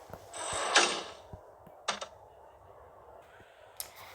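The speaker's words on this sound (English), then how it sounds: "Elevator, shut it." Elevator doors sliding shut in a school building make a mechanical rattling whoosh, then a couple of clunks and clicks as they close, with short sharp knocks spaced through the clip.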